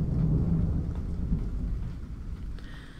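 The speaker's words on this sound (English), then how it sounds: "it's nice to be getting a good thunderstorm" Low rolling thunder from a thunderstorm, a deep rumble that slowly fades over a few seconds, with a light hiss of rain in the background.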